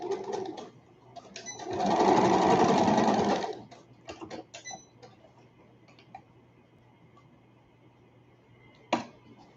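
A sewing machine stitching an elastic-waist skirt runs in one steady, loud burst of about a second and a half, with scattered light clicks and ticks of the machine before and after.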